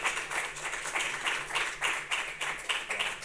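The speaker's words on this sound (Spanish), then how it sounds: "Vanessa, Nina, bueno, un aplauso para ellos." Audience applause at a theatre event in a library hall, fairly faint and somewhat distant, with irregular rhythmic clapping pulses continuing throughout.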